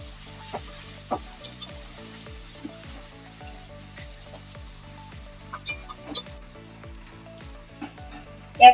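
Lote fish sizzles steadily in a hot pan with garam masala, a continuous close fry with scattered pops and crackles and a few sharper spatters near the end, no voices.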